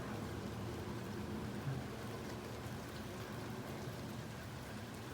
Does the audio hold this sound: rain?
yes